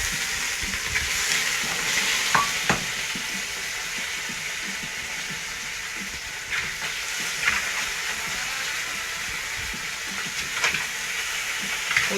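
Sausages sizzling steadily in hot fat in a pan for a beef sausage casserole, a continuous bright hiss with a few louder spits and crackles, close and with no one talking.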